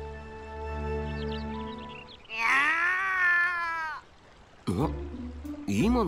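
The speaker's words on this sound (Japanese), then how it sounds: "猫の鳴き声だ。 向こうから聞こえた。" Cat meowing in the video game Sword Art Online Alicization Lycoris, a drawn-out, wavering meow following a long tonal game sound, then two shorter meows, loud and close.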